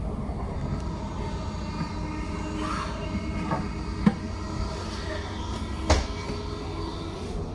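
A 12-carriage Class 700 Desiro City train runs between Horsham and Peterborough, heard from inside as a continuous low rumble with faint rattles and two sharp knocks from the carriage.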